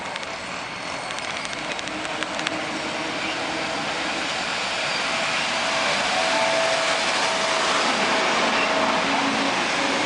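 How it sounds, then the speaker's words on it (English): A passenger train pulls into Sydenham station with a broad, steady rumble and hiss that swells slightly as it approaches, loud and fairly close. "And here she comes now. F1, led by C7396."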